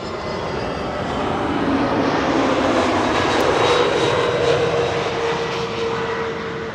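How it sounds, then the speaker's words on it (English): An Airbus A320neo jet arriving at Schiphol roars steadily and loudly overhead, a broad engine rush that swells slightly at its peak with a thin whine running through it, heard with no voices. "Up next, flight 7100, A320 Neo."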